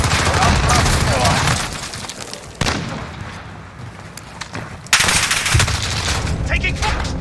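Rapid automatic gunfire from an M4A1 rifle in Call of Duty Modern Warfare Domination, loud sustained bursts with brief pauses and sharp restarts, close to the listener.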